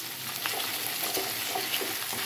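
Ginger garlic paste stirred into a pan of frying meat pieces, a steady soft sizzle running throughout with faint scraping touches, close and moderate in level, no talking.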